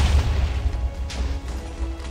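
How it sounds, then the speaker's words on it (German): Creepers explode in the Minecraft video game, giving a series of deep, rumbling booms and crashing bursts that run together with no pause. "Hier explodiert einfach alles!"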